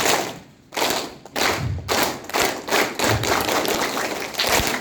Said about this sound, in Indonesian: Ikuti gerakan saya dengan tepuk tangan ya